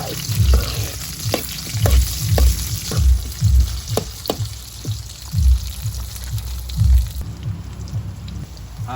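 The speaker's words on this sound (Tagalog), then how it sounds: "i-stir fry natin ang patatas sa mainit na mantika" Potato pieces being stir-fried in hot oil: a constant crackling sizzle broken by repeated rhythmic scraping thumps of a utensil against the pan, up close, fading to a plain sizzle at the end.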